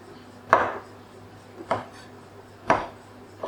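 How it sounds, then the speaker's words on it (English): A knife chops shrimp for wonton filling on a cutting board, three distinct sharp chops spaced about a second apart, close and clear in a quiet kitchen. "Chop the shrimp first."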